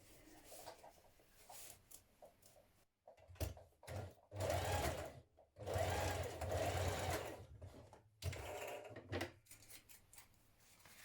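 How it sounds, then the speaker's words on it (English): A domestic sewing machine stitches the seam allowance on children's dungarees in bursts of steady motor whirring broken by short pauses, close and fairly loud. "we're going to stitch in the seam allowance down each side."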